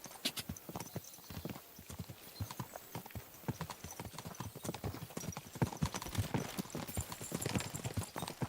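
Horse hooves clip-clop steadily in the medieval video game Kingdom Come: Deliverance 2, a continuous brisk rhythm of hoof strikes at moderate distance with no talk over them.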